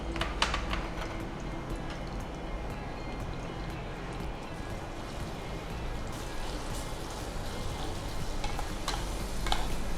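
Soybean chunks frying in hot oil as a steady, dense crackling sizzle, broken by occasional sharp ticks and pops, with no talking over it.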